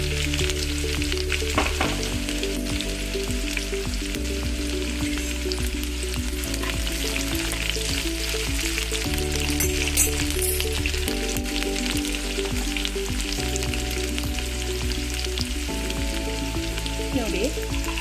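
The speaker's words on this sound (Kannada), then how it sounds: "ಅವರೇ ಬೇಳೆನ ನಾವು ಇದಕ್ಕೆ ಹಾಕಿ ಎಣ್ಣೆಯಲ್ಲೇ ಫ್ರೈ ಮಾಡಬೇಕು" Field beans (avarekalu) sizzle and crackle steadily in hot oil for a vegetable side dish, close and continuous, with occasional stirring and a low musical tone running underneath.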